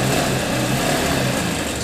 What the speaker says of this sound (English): sewing the top seam of the pocket